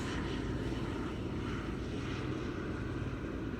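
A helicopter flies over a beach at sunset, its steady rotor and engine drone loud and continuous throughout, with no break or fade.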